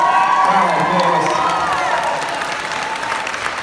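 Live audience at a comic convention stage show applauding and cheering after a performance, a dense, steady wash of clapping with shouts mixed in, close and loud throughout, easing slightly toward the end.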